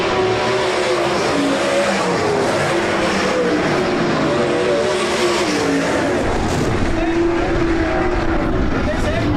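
360 sprint cars race around Rapid Speedway, a loud continuous engine roar of the pack with pitch shifting as cars circle the track, while an announcer talks over it.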